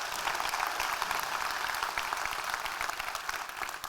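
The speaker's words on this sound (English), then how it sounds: "Let's give him a round of applause." Applause from an audience at a corporate event: continuous crisp clapping from many hands, fairly even and moderately distant, easing slightly toward the end.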